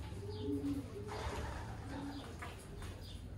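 Racing pigeons inside a pigeon loft give soft, low, rolling coos, faint and close, over a steady background hum.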